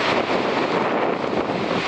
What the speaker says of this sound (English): It's super windy too!